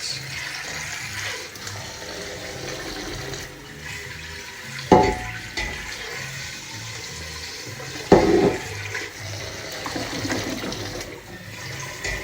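Cold tap water runs steadily over cooked rice in a sink, a continuous splashing rush with a couple of brief louder clunks partway through.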